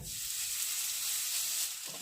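Steady, loud sizzling of grated potato frying in a hot pan fills the clip, a continuous hiss without any voices.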